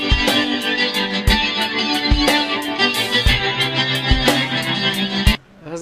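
An electric guitar played through a dream-pop preset with a flanger effect in GarageBand strums sustained chords in a steady, repeating rhythm, loud and full, cutting off abruptly just before the end.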